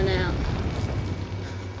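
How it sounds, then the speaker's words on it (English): A rocket launcher round explodes in Resident Evil 4, a deep rumbling blast that rolls on as a sustained low roar, loud and close, with faint voice-like sound over it. "I'm just gonna shoot a rocket straight up in there."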